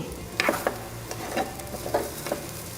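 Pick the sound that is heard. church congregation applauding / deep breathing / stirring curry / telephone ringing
stirring curry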